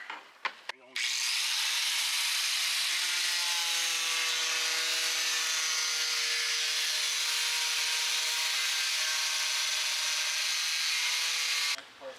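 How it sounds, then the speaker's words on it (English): A power tool cuts into a 2023 Chevrolet Colorado bumper, a loud, steady, high grinding whine lasting about eleven seconds after a few short starts, then stopping abruptly. "we're cutting the bumper"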